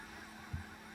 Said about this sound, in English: Geese across there.